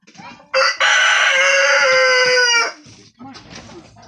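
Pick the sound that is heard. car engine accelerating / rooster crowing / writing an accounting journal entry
rooster crowing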